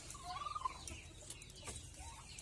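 Chickens cluck softly nearby, a few short low clucks over quiet outdoor background.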